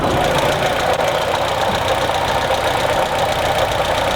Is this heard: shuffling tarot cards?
no